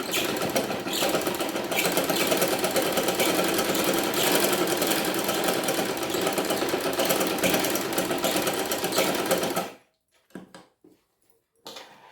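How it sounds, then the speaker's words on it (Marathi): A sewing machine runs a double line of stitching on a blouse, a loud, steady mechanical whirr that holds for about ten seconds and then cuts off, leaving near silence with a couple of faint knocks. No one speaks. "डबल घेते शिलाई."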